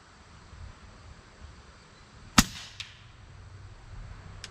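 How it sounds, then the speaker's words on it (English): A single rifle shot fired through a Sniper VT 5.9-39x56 FFP scope setup cracks out sharply at moderate distance, followed by a brief echo and a faint second report against quiet outdoor background noise. "Got that first shot out there."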